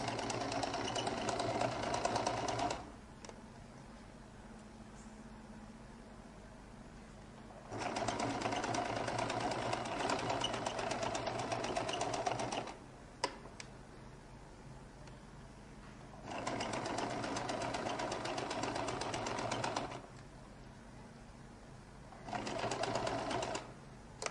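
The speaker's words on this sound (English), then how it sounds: "I'll make sure that I sew a little bit away from the collar, so just slightly away, like 1 millimeter" A sewing machine stitches near a jacket collar in four separate runs of steady, rapid whirring, each a few seconds long and split by quiet pauses, close and alone without speech.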